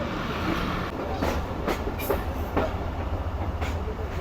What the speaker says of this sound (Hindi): ये ट्रैक चेंज करके ट्रेन हमारी प्लेटफॉर्म लाइन यानी लूप लाइन पर आ रही है